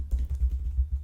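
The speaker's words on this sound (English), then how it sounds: "as I start typing" Rapid, steady typing on a computer keyboard, a close run of soft, evenly spaced key thumps with no talking.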